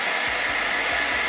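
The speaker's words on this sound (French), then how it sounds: "Avec notre sèche-cheveux, on vient chauffer notre moule pour enlever le beurre de cacao" A hair dryer blows steadily at close range, heating a chocolate mould to melt off leftover cocoa butter, a continuous even whoosh with no voices over it.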